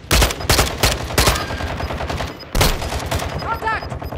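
Bursts of rapid gunfire in a Warzone 2 match, loud and close, with several sharp volleys separated by brief pauses and players talking over the shooting.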